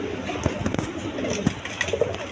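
Pigeons cooing in a loft of breeding pairs of colored pigeons, soft low coos repeating close by with brief flutters and rustles, a faint voice in the background.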